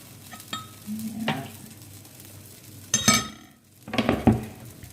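Aebleskiver batter frying in two pans for Danish Christmas donuts, with soft sizzling under intermittent scraping and clinking of a utensil against the pans in a few short bursts.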